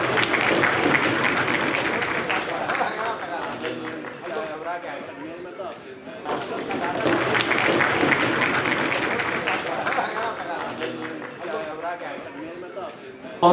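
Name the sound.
audience applause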